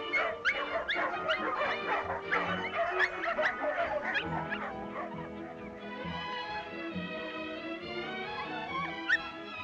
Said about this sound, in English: The dog I want must be vivacious and sleepy.